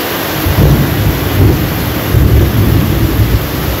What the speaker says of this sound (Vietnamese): Quá trời đó mưa.